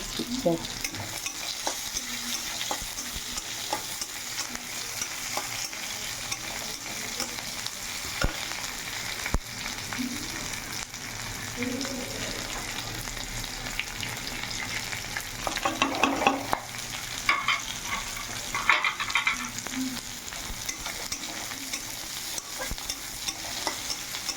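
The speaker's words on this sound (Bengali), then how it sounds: "পেঁয়াজটা যখন ভাজা ভাজা হয়ে আসবে" Onions with chili and garlic sizzle steadily in a hot pan, with a continuous crackling hiss and occasional scraping as they are stirred.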